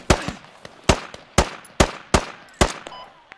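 Rapid gunfire in the military shooter game Squad: several loud, sharp shots spaced roughly half a second apart, each with a short echoing tail, close and alone without talk.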